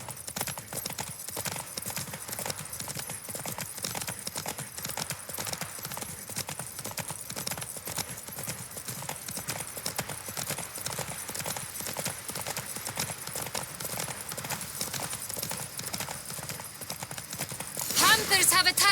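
Roach, Geralt's horse in The Witcher 3, gallops in a steady rapid clip-clop of hooves that runs throughout at moderate loudness, with a brief louder burst near the end.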